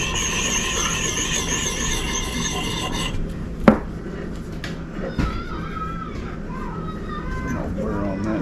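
Burr being taken off a Gransfors Bruk small forest axe blade, a steady close rasping stroke for about three seconds, then quieter scraping with a sharp click and a soft knock.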